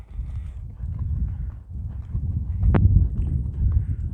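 A thoroughbred racehorse being broken in walks along a rail, its hooves making a soft, steady clip-clop on the ground, with a faint snort partway through.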